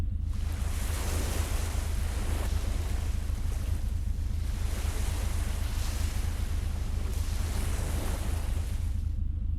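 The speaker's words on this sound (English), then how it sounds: "hear the sounds of the ocean lapping at the side of the ferry boat" Water surges and washes in repeated swells against a ferry hull, with steady wind rush and a low rumble underneath.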